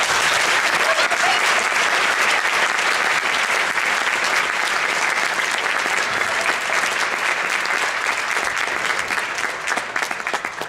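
Audience at a film screening Q&A applauding: sustained, dense clapping from many hands, loud and even throughout, thinning slightly at the very end.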